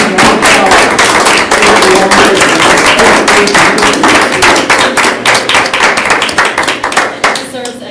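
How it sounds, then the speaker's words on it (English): Audience clapping at a school board of education meeting after an oath of office, loud and close, with sharp individual claps forming steady applause that gradually thins into separate slower claps toward the end. "Deserves extra clapping"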